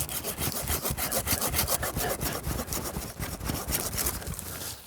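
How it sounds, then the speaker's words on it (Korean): A hand saw cuts through a tree branch being pruned to shape a candelabra-form tree, rasping in a steady back-and-forth rhythm of close, loud strokes with no talking. "톱질이 좀 되겠습니다."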